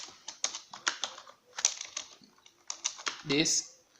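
Computer keyboard typing in quick irregular bursts of clicks, close and fairly clear, with short pauses between runs of keystrokes while entering HTML code.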